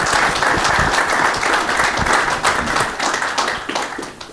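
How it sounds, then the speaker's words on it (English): A room full of people claps steadily for a panel at a student-focused meeting, a dense, close burst of applause that holds strong and fades slightly toward the end. "Can we give the panelists a round of applause?"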